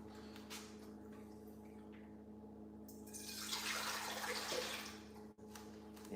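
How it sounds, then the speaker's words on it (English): Water pours into a stand mixer bowl for pretzel dough, a soft rushing splash that swells in the middle and fades, quiet against a faint steady background hum. "So I'm gonna pour the water in first"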